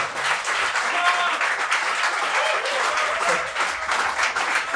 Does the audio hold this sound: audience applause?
yes